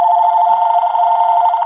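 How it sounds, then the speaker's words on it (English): Home landline phone ringing with an electronic tone, one continuous loud ring burst close by, triggered by a cell phone call relayed over Bluetooth. "Alright, so now we get the cell phone calling the home again."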